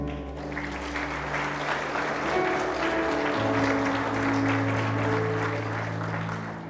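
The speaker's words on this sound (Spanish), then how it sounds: "Vamos, aplauda al Señor." Congregation applauding in church during a sermon, sustained steady clapping from many hands with tonal music or organ-like sustained notes underneath, fairly distant and even throughout.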